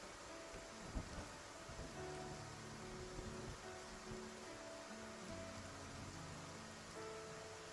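Steady rain hiss in the video game Love and Deepspace, a continuous broadband wash with faint rumbles beneath and soft musical tones layered over it, no voices.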